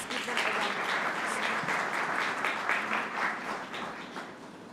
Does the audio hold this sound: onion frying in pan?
no